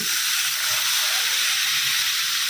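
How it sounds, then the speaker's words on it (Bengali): Water poured into a hot pan of turmeric in a home kitchen bursts into a loud, steady hissing sizzle with steam, continuous and close throughout. "এবার এর মধ্যে দিয়ে দিচ্ছি জল"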